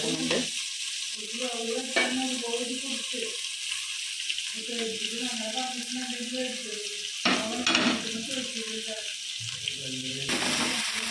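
Sliced onions stirred as they fry in a pan, giving a steady sizzle with occasional scraping taps. A voice talks over much of it, and a faint watery splash comes near the end.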